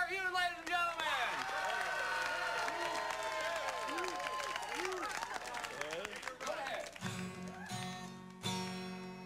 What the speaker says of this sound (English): Round of applause for Terhune, ladies and gentlemen.